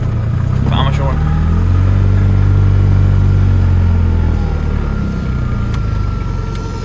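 A Ligier X-Too moped microcar engine pulls away in first gear, a steady loud mid-pitched drone that rises and holds close by before easing slightly.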